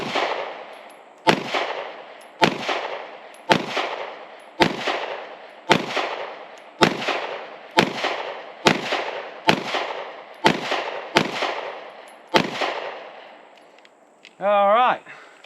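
Eleven sharp 9mm pistol shots from a SAR USA B6C fired at a target, evenly spaced about a second apart, each loud crack trailing off in a short echo, followed by a brief voice at the end.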